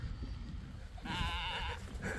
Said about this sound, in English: He's found a sheep.